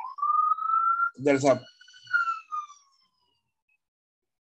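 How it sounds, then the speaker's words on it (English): An ambulance siren wails steadily as the vehicle passes, then cuts off as a voice speaks briefly over it and the sound fades out. "ambulance passing by."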